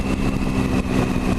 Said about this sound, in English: Bags a grunt, and the big old triple engine.